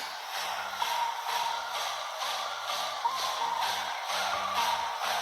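Music with a rhythmic bass line and repeating beat plays out of headphones used as a portable speaker, thin and slightly hissy, no talking.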